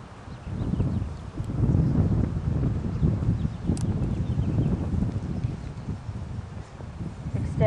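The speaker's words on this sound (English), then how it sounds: "Jog your horses, please, on the rail at a jog." Horses jogging on the rail during a western pleasure class at a horse show for a three-year-old, with steady low hoofbeats and an arena rumble of wind and rustle running throughout.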